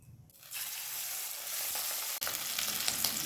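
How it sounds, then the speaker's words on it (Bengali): Fish pieces frying in oil in a kadai over a medium-high flame, with a loud, dense, continuous sizzle that starts after a brief quiet moment and carries on with a short break partway. "এবার মাছটা ভেজে নেব।"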